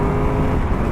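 Triumph Tiger 1200 Rally Pro adventure motorcycle with the new 1200 T-plane engine accelerating hard in sport mode, a loud, steady, close engine roar filling the short stretch with no talk.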